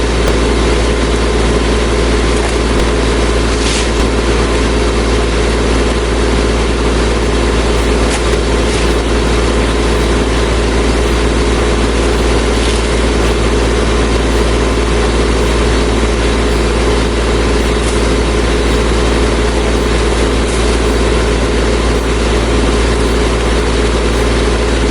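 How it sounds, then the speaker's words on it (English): A heavy tractor engine runs steadily and loudly throughout, a constant low droning hum with no breaks. "I can bring the tractor right here and actually push with it."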